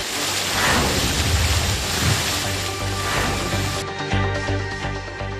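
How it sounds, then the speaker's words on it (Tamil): Heavy rain with thunder in Puducherry: a dense, loud roar of downpour with deep rolling rumbles underneath, steady throughout, no talk. "இடியுடன் கூடிய கனமழை பெய்தது"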